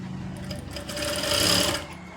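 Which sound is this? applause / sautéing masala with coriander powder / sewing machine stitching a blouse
sewing machine stitching a blouse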